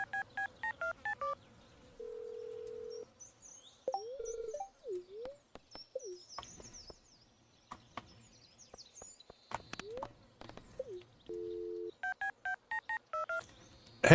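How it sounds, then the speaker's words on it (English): Telephone dialing in Stardew Valley, bursts of rapid electronic keypad tones at the start and end, with a steady ringing tone, chirpy game blips and short melodic sound effects between them. "Alright, let's make some phone calls."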